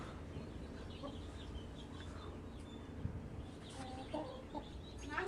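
A hen clucks and calls softly at fairly close range, with irregular short notes over a low background hum before laying an egg.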